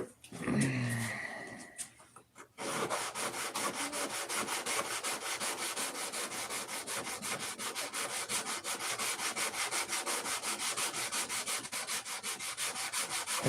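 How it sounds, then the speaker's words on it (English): Wood sheeting is sanded on a high spot: a brief rub and pause, then a long run of rapid, rhythmic back-and-forth scraping strokes, close and steady to the end. "You only want to sand that high spot that's white there"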